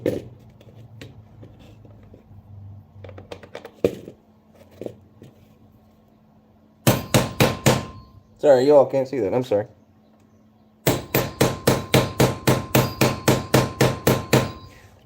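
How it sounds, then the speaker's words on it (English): A hammer strikes repeatedly while a WWII M1 helmet is re-webbed, coming in two fast bursts of evenly spaced sharp taps, with someone speaking briefly between them over quiet room noise. "Even if you have to, turn the hammer sideways."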